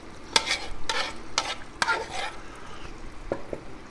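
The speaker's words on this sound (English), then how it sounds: "We're going to mix it up really good with that meat and vegetables." A spoon scrapes and knocks through a pot of chili mixture of ground meat, vegetables, canned diced tomatoes, and red kidney and black beans, several distinct stirring strokes in quick succession over a faint sizzle, close and alone.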